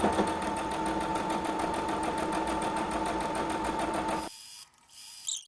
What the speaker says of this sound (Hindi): फिर से हम यहाँ से सिलाई लगाएंगे।